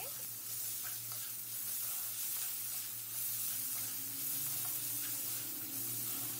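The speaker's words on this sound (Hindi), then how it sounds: "भी ढक के पकाएंगे जब तक प्याज हल्का ब्राउन ना हो जाए" Onions slowly frying under a lid for a potato-spinach curry, giving a steady soft sizzle and hiss with low, even loudness throughout and no voices.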